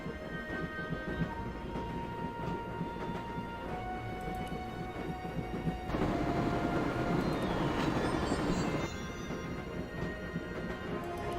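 Steady rumble of a moving train in the Broken Sword adventure game, a continuous low rolling drone with rattling and a shift in intensity midway, heard alone without voices.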